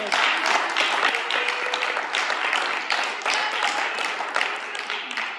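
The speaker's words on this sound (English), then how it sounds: "Let's give her another round of applause." A church congregation applauds after a sermon, a dense, sustained round of many hands clapping at a steady, fairly loud level for several seconds with a few voices faintly mixed in.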